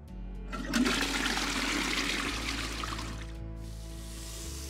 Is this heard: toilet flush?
yes